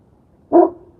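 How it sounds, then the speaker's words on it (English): A single short dog bark rings out at close range in a quiet indoor room, a brief bright burst that trails off quickly. "Stop barking, please, Bubba."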